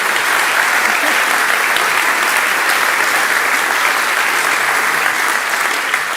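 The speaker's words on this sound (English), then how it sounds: "So please give our rector a warm round of applause once more for a fantastic speech." An audience at an academic year opening ceremony gives its rector a warm round of applause after a speech, a loud, dense, continuous wash of clapping that holds steady from start to finish.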